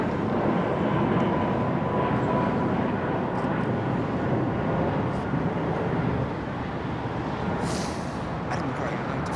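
A jet airliner landing at London Heathrow Airport, a loud continuous broadband engine roar that holds steady throughout, with talk running over it.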